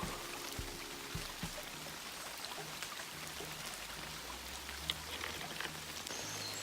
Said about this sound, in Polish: Słuchajcie, leje jak z cebra.